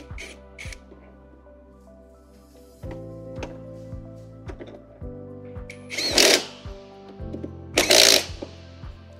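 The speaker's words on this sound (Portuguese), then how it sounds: "Encaixe ele e dê a rosca e a fixação para poder prender o suporte do pé." A fixing screw is driven in to secure the foot support while assembling an HE6 unit. Short bursts of humming, ratcheting turns come close and clear, with two louder scraping spurts near the end.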